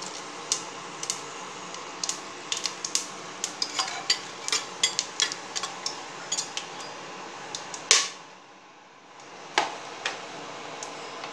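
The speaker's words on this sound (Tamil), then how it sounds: "இதில் வந்து தாளிக்கிறதுக்கு பட்டை, சோம்பு, ஏலக்காய், கிராம்பு எல்லாம் போடுறோம்." Whole spices (cinnamon, fennel, cardamom and cloves) tossed into hot oil for a Tamil-style chicken biryani: a soft sizzle under a steady run of sharp pops and utensil clicks against the pan, with a brief louder scrape.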